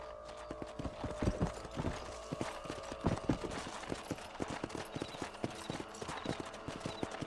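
Horse hooves clip-clop in a rapid, irregular rhythm in the Red Dead Redemption video game, several horses moving together over ground, fairly close, with faint background game sounds.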